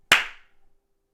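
A single sharp clap from a small group clapping hands together in unison, close and loud, decaying quickly into silence.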